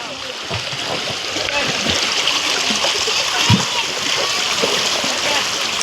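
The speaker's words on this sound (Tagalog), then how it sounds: "Pag-igib ng tubig" Cold stream water splashes and gurgles as it is fetched, with irregular close splashes and sloshes over a steady running-water rush.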